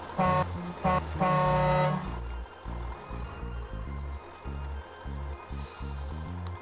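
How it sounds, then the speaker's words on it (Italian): Horn of an Iveco Turbo Star truck in Farming Simulator 19, sounding as two short honks followed by one longer blast, then a low rhythmic engine rumble pulsing on afterward. "Senti il clacson"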